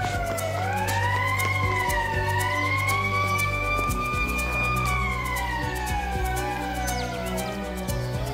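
A wailing emergency siren, taken to be from an ambulance, rises and falls slowly and loudly over street noise and low rumble, with no one speaking.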